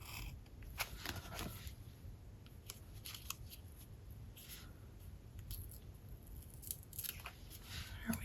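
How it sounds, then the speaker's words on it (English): Paper being trimmed with a slice tool against a ruler for a December monthly planner layout, heard as a few quiet, brief cutting scrapes and rustles in a soft, mostly still room. "Pull my ruler out and get this trimmed down with my slice tool."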